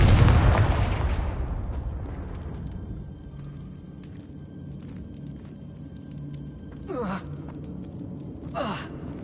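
A Confringo blasting spell cast in Hogwarts Legacy bursts loudly at the start, its roar decaying over a couple of seconds into a low rumble, followed later by two brief whooshing magical effects.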